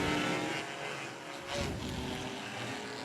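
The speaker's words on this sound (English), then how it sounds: "The little Chevy Blazer that could makes another lap on the inside of the raceway" Race cars lap the Claremont Motorsports Park raceway, a sustained broad engine roar with a swell around the midpoint as cars pass, fairly distant, no voices.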